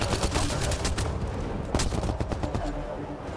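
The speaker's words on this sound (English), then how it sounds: "Oh, you're shooting me." Rapid bursts of automatic gunfire from the video game Mass Effect Andromeda crackle continuously and loudly, dense overlapping shots filling the whole stretch.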